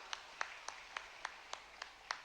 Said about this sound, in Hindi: जोरदार तालियां बजाओ सभी के लिए।